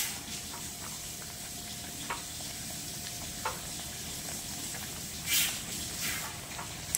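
Chicken chaap sizzles softly on low heat in a pan with no added water, a quiet, steady hiss with a few faint pops. Near the end a brief clink and a burst of steam break through.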